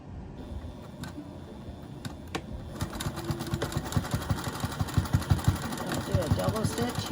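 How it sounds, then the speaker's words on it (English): A sewing machine stitches a large shopping bag, a half inch in from the edge, its rapid rhythmic ticking growing steadily louder and more pronounced over several seconds, close by with no talk. "I am going to sew a 1/2 inch in."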